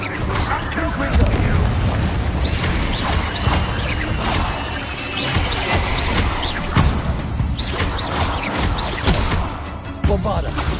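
Confringo spell explosions in Hogwarts Legacy combat, a dense run of loud booms, crashes and shattering impacts, continuous and close, with some voices mixed in the fight.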